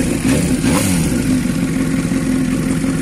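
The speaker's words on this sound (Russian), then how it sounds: "мотик работает громко, выхлоп очень громкий" A motorcycle engine runs loudly nearby, its deep rumbling exhaust steady with a slight rev, filling the whole clip without any voices.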